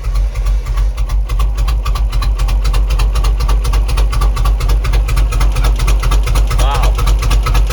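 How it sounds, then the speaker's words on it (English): A 2004 Chevy 6.0 V8 idles roughly and misfires up close, a loud, uneven low rumble with irregular pulsing throughout, as if running on one cylinder. "Why does it sound like it's running on one cylinder?"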